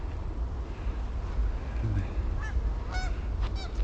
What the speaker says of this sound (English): Oh, there goes the geese.